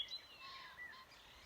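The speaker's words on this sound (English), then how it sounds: "We can tell that birds live in this Sitka spruce." Faint high chirps and short whistled bird calls twitter softly from a Sitka spruce on a farm over a quiet background.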